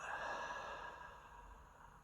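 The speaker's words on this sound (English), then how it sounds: "Deep breath in, long breath out." A person draws a deep breath in and lets out a long, airy breath, a soft, close exhale that slowly fades with no other sound around it.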